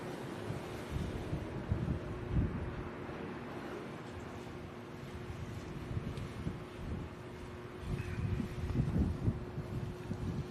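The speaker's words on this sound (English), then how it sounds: "So windy here in Vegas, man." Strong gusty wind buffets a microphone outdoors in Las Vegas, a continuous low rumbling roar that swells and eases in surges, with no one speaking.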